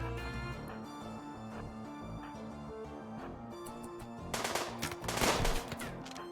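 Rapid bursts of gunfire from a RimWorld colony firefight rise over steady game music, growing louder and denser toward the end, with no voices.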